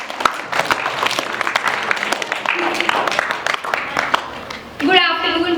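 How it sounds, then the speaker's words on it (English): Applause from a school audience at an English poem recitation competition for a class 7 student: dense scattered clapping runs steadily, then a voice begins speaking near the end. "Give her a huge round of applause."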